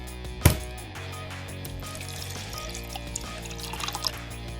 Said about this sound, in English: Our first step is measuring 1 cup of room temperature water.